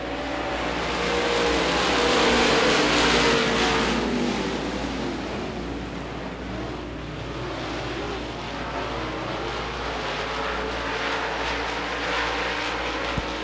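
Dirt late model race cars roar together on a dirt oval at Devil's Bowl Speedway as the green flag drops, a dense, continuous engine din that swells early and stays loud throughout, with no talk over it.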